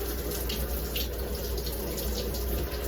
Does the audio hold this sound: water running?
yes